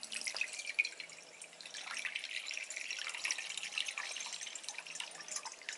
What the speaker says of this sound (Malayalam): പാത്രത്തിലേക്ക് നമുക്ക് കുറച്ച് വെള്ളം ഒഴിച്ചു കൊടുക്കാം.